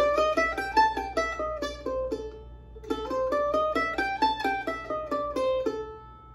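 A blues scale picked on mandolin, single plucked notes climbing and descending in an even rhythm, played twice through, close and clear with no talking.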